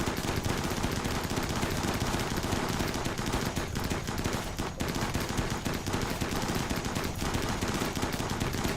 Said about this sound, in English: Thankfully, because it's burning, it's exploding rather quickly.